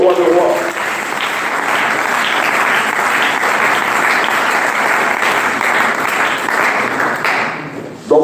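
Loud sustained audience applause and cheering at a French evangelical gathering, a dense steady roar of clapping that carries on for several seconds before cutting off abruptly.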